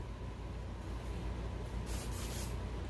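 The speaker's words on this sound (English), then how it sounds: "Weldwood contact cement in a spray can." Weldwood contact cement sprayed from an aerosol can onto a costume for a cobweb effect, a steady close hiss with a brighter surge of spray partway through.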